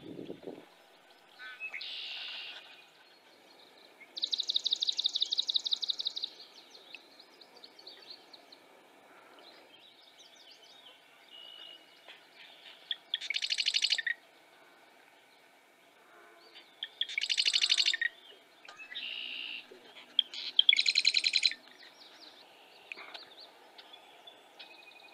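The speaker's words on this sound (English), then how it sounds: "Eastern kingbird on a nest." An Eastern kingbird near its nest in a marsh gives bursts of sharp, buzzy, sputtering chatter, several separate calls spaced out over a quiet open background.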